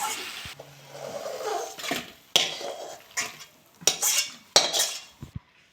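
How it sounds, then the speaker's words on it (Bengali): A spoon stirs mixed vegetables with prawns in a cooking pan, with close scraping strokes and metal clinks in irregular bursts over a light background sizzle and no speech. "এটা নেড়ে চেড়ে একটু চচ্চড়ি করবো।"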